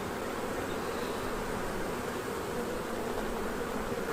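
Honeybees packed densely over a crowded spring hive frame drone in a steady, continuous hum, close and even throughout with no voices.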